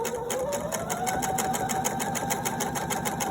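Sewing machine running continuously while top stitching fabric near the edge, a close, even, rapid whirring hum with no pauses.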